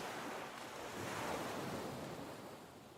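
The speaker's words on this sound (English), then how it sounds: "Endless waves, endless water, endlessly raging against an ever-changing shore" Sea waves wash steadily onto the shore in a continuous broadband roar, with wind buffeting the microphone and no voices present.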